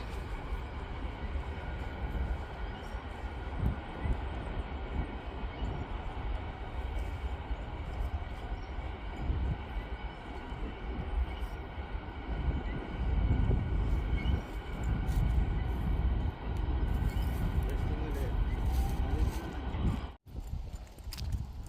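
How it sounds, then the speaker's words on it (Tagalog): A train rumbles past at a steady distance in Regina, Saskatchewan, a long low roar with rhythmic clacking, swelling midway and continuing for many seconds before a brief cutoff. "Ayan, dumaan yung tren."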